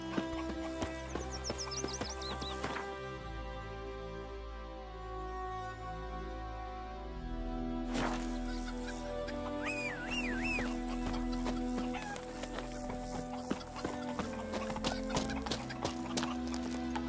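Roach, Geralt's horse in The Witcher 3, gallops with a steady run of clip-clop hoofbeats, close and clear over a layered game soundscape, with a brief neigh and faint bird clucks mixed in.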